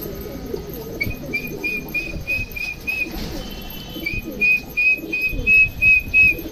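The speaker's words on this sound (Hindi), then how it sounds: "अब इनको सीटी मारना है और दाना अंदर डालना है, ताकि इनको पता चल जाए कि सीटी मारने पर दाना अंदर।" A man whistles to call homing pigeons in for feed: two runs of short, repeated whistle notes, fairly close and clear, over soft rustling and bird noise.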